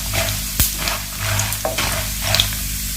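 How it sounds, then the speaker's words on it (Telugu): Mustard and cumin seeds fry in hot oil for a tempering for tamarind pulihora, a steady close sizzle with a few sharp pops and a brief stir, no voices. "ఆవాలు వేసుకొని ఇలా పోపు అనేది వేగనిద్దామండి."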